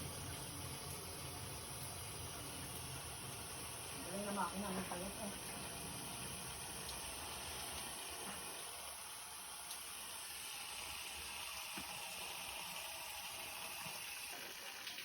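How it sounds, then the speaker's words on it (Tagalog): A steady mechanical engine drone runs throughout, mixed with rushing, gushing water and a broad hiss, with brief voices breaking in midway. "Nagana pa rin ang makina namin."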